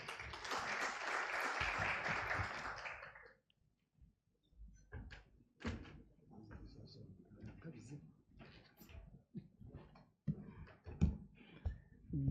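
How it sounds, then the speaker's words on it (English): Loud applause from a fintech conference audience fills the opening few seconds, then stops abruptly and gives way to a single voice talking over scattered small knocks. "Let's welcome Noah with a big round of applause."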